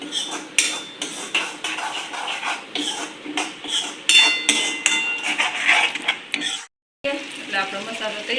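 Metal spoon scraping and clinking in a pan while a spice mixture for stuffed roti is stirred, close and busy with repeated scrapes, a brief silence near the end, then more stirring.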